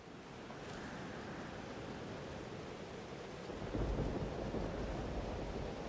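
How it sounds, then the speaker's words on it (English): Storm rumble in the video game Life Is Strange: Double Exposure, a low, steady roar of wind and rain with a deeper thunder swell near the end, fairly faint and with no one talking. "Weather's worse than I remember it. Storm followed me."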